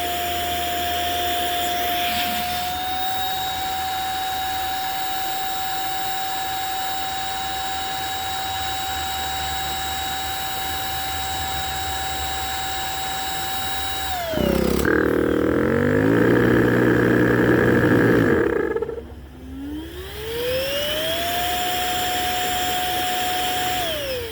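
An Outdoormaster Shark 3 electric air pump whines loudly and steadily at close range, then drops to a deeper, rougher roar when it shifts into its second stage, briefly cuts down and spins back up to a high whine.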